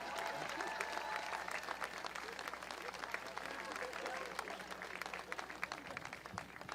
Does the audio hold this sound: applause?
yes